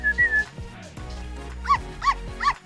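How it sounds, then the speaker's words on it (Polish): A dog gives a few short barks followed by high whimpering yips, close and fairly loud, with brief quiet gaps between the sounds. "Dobry pies!"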